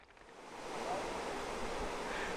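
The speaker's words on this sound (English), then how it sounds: "So this is the creek here that's made up. This is all from the spring." Spring-fed creek in southeastern Missouri's cave and spring country, its water rushing in a steady, close broadband wash that swells slightly after the first second and holds even to the end.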